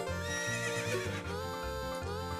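Epona the horse from the Ocarina of Time video game gives a loud, close whinny that rises and wavers, with faint hoof clip-clops underneath, heard alone without talk.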